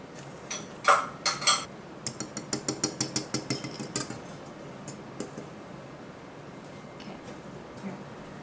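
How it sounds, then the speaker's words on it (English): Dry gingerbread ingredients for an allergy-free recipe are mixed in a bowl, giving a run of quick, close clinks and scrapes of a utensil against the bowl, then quieter scattered taps. "And then mix that all together."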